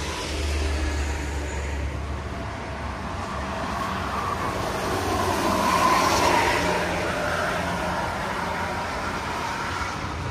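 A bus passes on the Trans Java toll road at kilometre 429, a steady roar of tyres and engine that swells to a peak midway and then eases off, with constant traffic rumble underneath.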